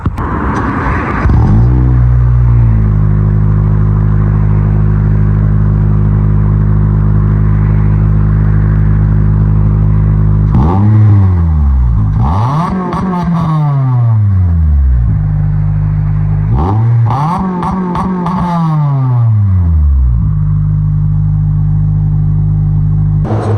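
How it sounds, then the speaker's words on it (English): An Acura RSX engine fitted with a Vibrant Stealth muffler cranks and settles into a deep, throaty idle, then revs sharply twice with a rumbling exhaust before dropping back to idle. "a quick little sound clip just to let you hear the cold start, idle, and all of that"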